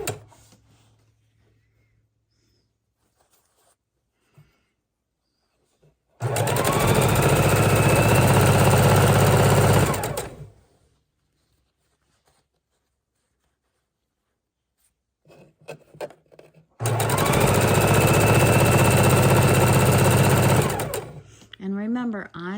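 A sewing machine stitches a quilt border in two bursts of steady, loud whirring of about four seconds each, separated by a long quiet pause.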